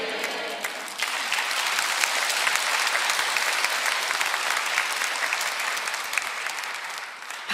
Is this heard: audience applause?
yes